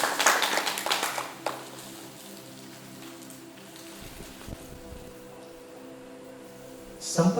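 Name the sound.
audience applause welcoming a speaker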